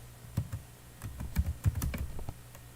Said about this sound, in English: let me go and type the link over there.